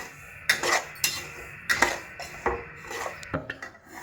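Semolina (rava) roasting in a hot pan while being stirred, with a string of clinking utensil scrapes and taps against the pan at irregular intervals, close and moderately loud, without talk.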